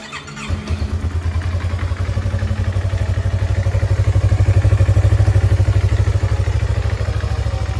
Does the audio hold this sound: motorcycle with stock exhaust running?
yes